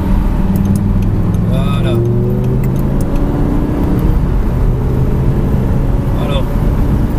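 An Audi R8 V10 on a race track gives a steady, loud engine drone with gear changes and rising tones, while someone speaks over it.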